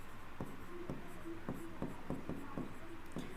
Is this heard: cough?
no